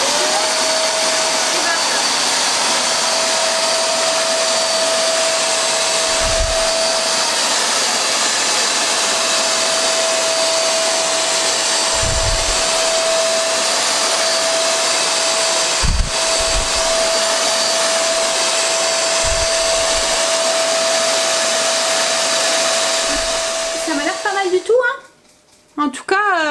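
Wet-dry vacuum cleaner washing and sucking a floor, a loud steady whining motor hum running continuously and close, with faint occasional bumps, cutting off near the end.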